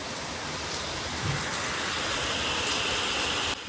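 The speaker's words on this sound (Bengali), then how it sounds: "ঝমঝমিয়ে একদম জোরে বৃষ্টিটা নেমেছে" Heavy rain pours down in a dense, even hiss that holds steady and loud without a break, with no voices.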